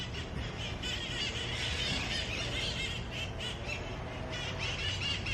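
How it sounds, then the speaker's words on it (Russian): A soft, continuous chorus of birds singing fills the air with overlapping chirps and calls, steady and fairly distant, with no voices. "пение птиц"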